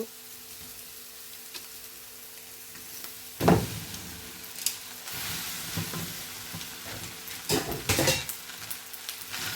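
Cooked pasta stirred through masala in a hot pan, a low continuous sizzle broken by several sharp scraping strokes of a spatula against the pan, close and moderately loud.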